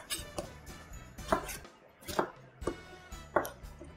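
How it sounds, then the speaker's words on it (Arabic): A knife chops tomatoes on a cutting board in a home kitchen, giving steady, close, crisp thuds about every half to one second with no voices. "اخلي اكمل تقطيع الطماطم"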